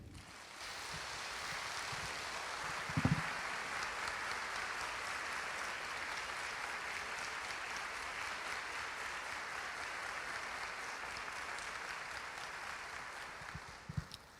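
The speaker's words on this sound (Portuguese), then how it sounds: "Vamos aplaudir?" A church congregation gives sustained applause, a broad even wash of clapping at moderate, somewhat distant level lasting the whole stretch, with a couple of brief louder knocks near the start and end.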